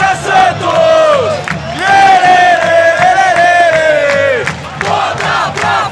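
Santos football fans in a stadium chant in unison, a loud, sustained roar of many voices rising and falling with the song, cheering all through.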